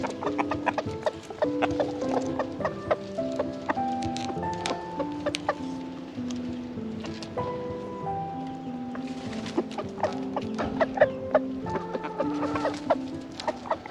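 A backyard rooster makes a low, repeated clucking food call to his hens as scraps are thrown, with busy overlapping chicken clucks and chatter close by throughout.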